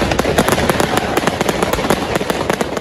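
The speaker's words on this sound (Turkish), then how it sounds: "Göstericiler polislere havai fişeklerle saldırdı." Fireworks launched by protesters at police during street unrest in France, a rapid volley of loud, sharp crackling bangs and pops going off close together without pause.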